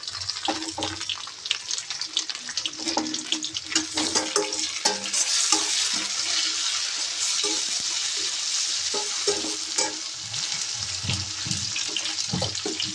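Tomatoes and softened onions sizzle in a pan for a squid curry, with repeated scraping stirs and clinks of a utensil over a steady frying hiss and some running water, all close by and with no talk.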